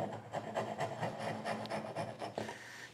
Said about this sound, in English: So I'm gonna take my rasp, and I'm just gonna go in there and